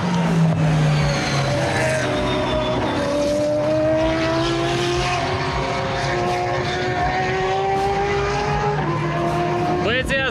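Race cars passing through a chicane at night during the 24 Hours of Le Mans, loud engine tones sweeping and shifting pitch as several cars go by, with a voice talking over the roar.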